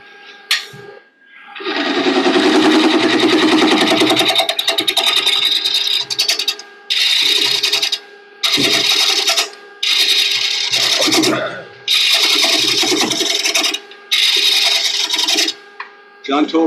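A wood lathe turns a live edge bowl with aggressive cuts, the tool rasping against the spinning wood in long loud bursts broken by short pauses, with no talk over it.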